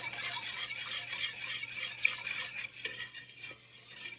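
A spoon scrapes and stirs thickening hot dog relish with flour in a pot, a continuous gritty rasping and swishing at close range, fairly quiet and with no talk.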